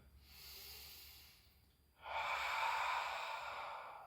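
Heavy breathing during an exercise routine: one long airy inhale, a brief pause, then a stronger, louder exhale, close and alone with no other sound.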